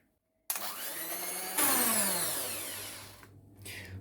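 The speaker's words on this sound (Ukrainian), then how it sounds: "Тепер цукор з яйцями збиваємо міксером на великих обертах до того моменту, поки цукор повністю не розчиниться." An electric mixer whips eggs with sugar at high speed, a loud, close motor whir that starts abruptly, jumps to a higher pitch partway through, then slowly settles before cutting off and briefly restarting.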